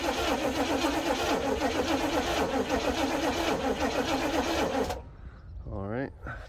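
A Chevrolet Impala engine is cranked on choke while cold, the starter grinding in a steady rhythmic churn for about five seconds before cutting off, followed by a brief sputter.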